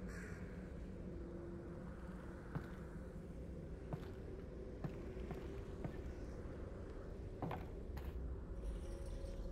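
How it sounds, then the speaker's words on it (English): In the Half-Life: Alyx video game, a faint rattle and scattered clicks stir against a steady low ambient hum, with soft bird-like caws in the distance and no talking. "Something rattled over there."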